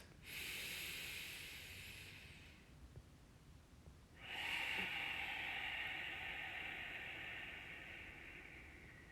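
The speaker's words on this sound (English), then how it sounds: "2 more breaths." Two slow, deep breaths drawn in a quiet room as part of a guided meditation, each a soft airy rush lasting a couple of seconds with a pause between, close and breathy with no talking.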